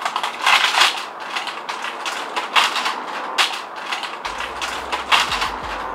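A pedal is threaded onto the crank of a fixie bicycle, giving a string of close, rhythmic ratcheting clicks and metallic turns that repeat roughly every half second, with a low hum entering near the end.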